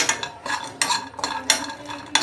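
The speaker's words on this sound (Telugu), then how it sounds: "ఇప్పుడు జీడిపప్పు వేస్తాం." Cashews for dry fruit laddu being stirred in a pan, with rhythmic bursts of scraping and clinking about every half second, close and fairly loud with no talking.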